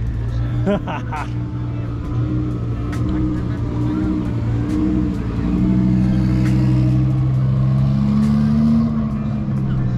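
A Lamborghini Huracan engine revs and roars loudly, its pitch climbing and falling, with people talking over it.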